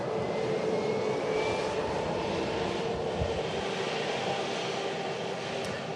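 Engines of a Scandinavian Airlines Airbus A320neo roar in a steady, dense wash with a faint whining tone drifting through, loud and constant for the whole stretch without voices.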